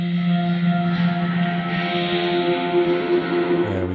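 A sustained synth pad drenched in Camel Verb reverb from Camel Alchemy rings with layered steady tones and a washy, echoing tail, shifting pitch slightly just before the end.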